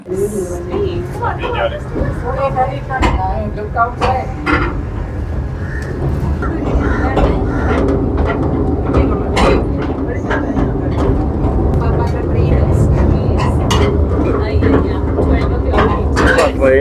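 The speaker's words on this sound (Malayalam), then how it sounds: "ട്രെയിൻ എങ്ങനെ അതിൻ്റെ യാത്ര തുടങ്ങിയിരിക്കുകയാണ്" A miniature train at Veli Tourist Village, Thiruvananthapuram, rumbles along steadily with rhythmic clacking, overlaid by continuous chatter from a crowd of passengers.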